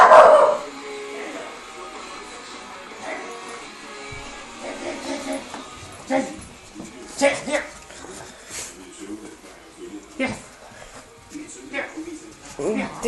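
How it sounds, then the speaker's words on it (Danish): Dog barking and whimpering from a TV in a home, sharp yips and whines scattered across the stretch, heard under nearby conversation from family members. "der er hunden inde i tv'et"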